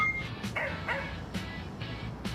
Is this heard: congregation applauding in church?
no